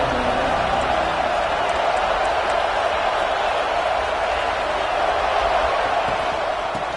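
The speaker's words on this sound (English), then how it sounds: "This crowd ready to make its presence known." A football stadium crowd at Iowa versus Notre Dame roars as a steady, dense wash of cheering and noise, continuous and loud throughout with no individual voices standing out.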